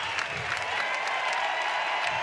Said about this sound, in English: an ovation for Kleinschmidt heading to the dugout by this record crowd at Goss Stadium at Coleman Field